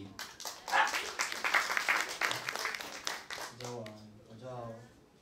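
An audience claps for a student named Wenyan at a class session, a dense burst of applause that fades after about three seconds as a voice begins speaking.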